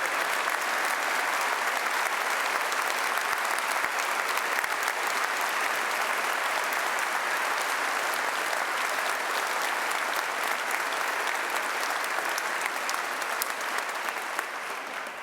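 Sustained applause from a graduation audience at a Cardiff University ceremony, a dense, even crowd clapping that continues steadily throughout and eases slightly at the end.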